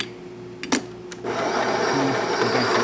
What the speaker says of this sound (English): So starting with one shot of espresso, we're gonna test it out.